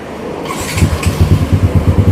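A modified Yamaha Spark 135i motorcycle with a reworked cylinder and head and an open exhaust fires up, settling into a loud, close, rapidly pulsing idle.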